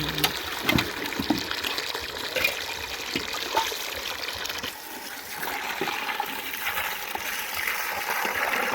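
Water runs and splashes steadily throughout while catla fish are washed, a continuous close trickling and pouring with small irregular splashes.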